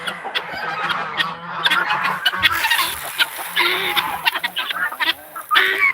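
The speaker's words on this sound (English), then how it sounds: "There's only 3 guineas in here this morning." Guinea fowl in a poultry coop give repeated harsh, rhythmic honking calls up close, overlapping one another in quick bursts with some scuffling between them.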